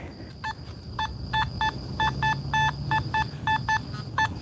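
A metal detector, swept over ground at night while coin hunting, signals an aluminum can with a string of about fourteen short, clear electronic beeps in an uneven rhythm over faint background noise.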